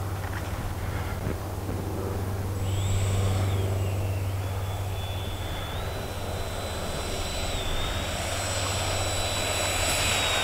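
Freewing Yak 130 RC jet with an electric ducted fan whining steadily at moderate distance, its high pitch rising and shifting as the throttle changes, with no talk over it.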